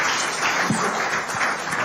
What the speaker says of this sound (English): Another round of applause for the Vice President